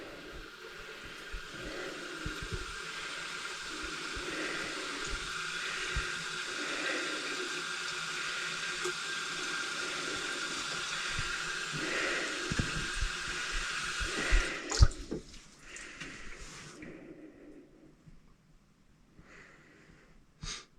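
A clogged bathroom sink drains slowly, a long steady gurgling, trickling wash of water that stops abruptly, leaving a few faint drips and gurgles in near quiet.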